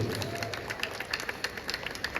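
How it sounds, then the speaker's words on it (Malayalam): An audience claps in support of a Kozhikode native's first production: scattered hand claps in a quick, uneven rhythm, moderately close, with a faint crowd murmur and no clear speech. "ഒരു വലിയ കൈയടി കൊടുത്തൊരു സപ്പോർട്ട് കൊടുക്കും"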